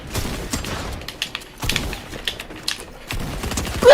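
Bursts of rapid gunfire from a weapon in a video game arrive in about three quick volleys of clattering shots, close and fairly loud, with no talking over them.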